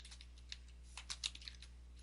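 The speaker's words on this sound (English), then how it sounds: "I could type in here how to configure" Light keystrokes on a computer keyboard, a few scattered soft taps followed by a quicker small burst, quiet and close over a faint low hum with no speech.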